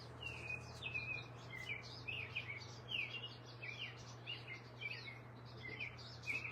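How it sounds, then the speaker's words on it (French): Birds sing in quick, repeated chirps and short trills throughout, fairly soft and steady above a constant low hum. "J'aime assez le chant des oiseaux."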